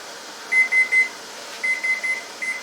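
A kitchen timer beeps in two sets of three quick, high-pitched beeps with a short pause between, then a fainter final beep.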